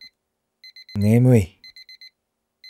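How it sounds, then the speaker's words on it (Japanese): A smartphone alarm in a video game rings in short, evenly spaced electronic beeps, pausing while a nearby voice speaks sleepily, then resuming its repeating pattern. "スマホに設定した目覚ましが鳴っていた。"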